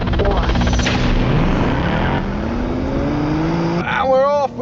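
A BMW M4 Competition and a Ford Mustang Dark Horse launch side by side in a drag race, loud engines roaring and revving up close, with a rising whine as the cars pull away.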